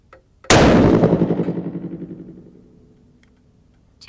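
A single loud rifle shot from a 6.5 PRC loaded with 63.0 grains of US869 powder and magnum primers, a sharp blast outdoors followed by a long rolling echo fading over several seconds.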